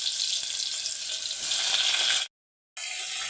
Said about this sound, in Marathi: तर आता हे वांगे ना आपल्याला तेलामध्ये छान असे फ्राय करून घ्यायचे